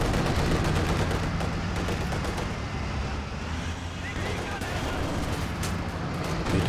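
Dense battlefield din from Company of Heroes 2, with rattling gunfire and incendiary artillery strikes landing on anti-tank gun positions, a steady loud roar of overlapping shots and blasts running throughout.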